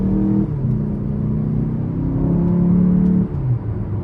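A 2015 Chevrolet Malibu LT with the 2.5 engine and about 123,000 miles is heard from the cabin under throttle, giving a steady droning engine hum that rises in pitch, then drops and settles near the end.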